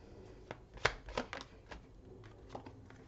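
Tarot cards being shuffled for a reading, a quiet run of soft riffling slaps and papery flicks, with a few sharper snaps near the middle and otherwise light, close handling.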